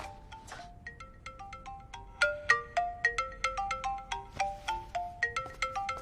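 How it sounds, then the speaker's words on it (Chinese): A phone ringtone plays a bright repeating melody of plucked electronic notes, quiet at first and then louder and rhythmic, with no talking over it. "我先去接个电话"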